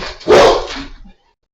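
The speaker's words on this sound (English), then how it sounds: "the dog went bonkers and somebody knocked on the door" A dog barks once, loud and close, a short sharp burst that ends abruptly into silence, heard alone without any talking.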